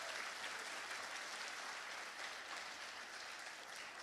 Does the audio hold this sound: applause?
yes